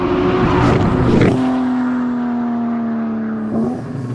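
Porsche Cayman fitted with a 911 Turbo S engine accelerating hard, a loud, close, rising engine note that climbs steadily through the revs and then dips briefly near the end as it shifts.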